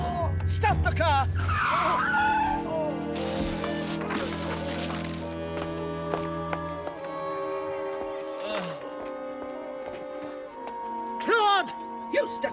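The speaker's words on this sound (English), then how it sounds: "Stop the car!" A car skids to a halt with a drawn-out tire screech, mixed in with voices speaking loudly and a music score.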